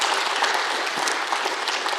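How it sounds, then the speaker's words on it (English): Steady applause from a conference audience, a dense unbroken wash of clapping hands that continues at even loudness throughout. "Give yourselves a big round of applause."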